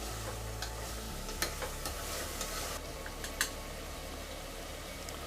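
Spices and chopped coriander being stirred into a sizzling prawn biryani masala in a pan, with soft scraping, light ticking clinks and a steady fry underneath.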